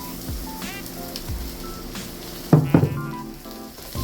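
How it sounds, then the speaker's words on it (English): Seasoned meat tumbles into a hot pan over a lowered gas flame while cabbage is fried, giving a sudden loud burst of sizzling that settles into a steady, softer frying hiss. "Go ahead and dump all of the meat in there."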